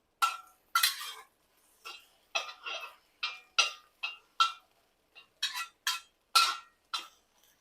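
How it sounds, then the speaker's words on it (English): Quick bursts of spatula scraping and clattering in a wok as eggs are stir fried, irregular sharp strokes with brief pauses, close by. "You're just stir frying some eggs."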